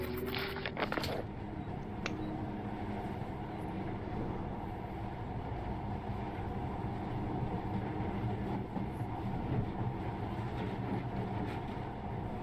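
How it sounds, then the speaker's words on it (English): Monorail ride in the game Metro Last Light, with a steady low rumbling rail drone and a few early clanks before a continuous moving-carriage hum, no voices. "But now, this monorail seems magic, doesn't it?"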